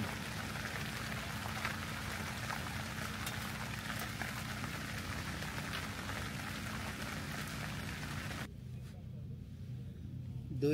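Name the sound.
rain falling at an open campsite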